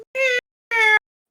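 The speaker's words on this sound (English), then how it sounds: "I just heard my cat through the door" A pet cat behind a closed door gives two clear, drawn-out meows in quick succession, loud and close, with silence between and after.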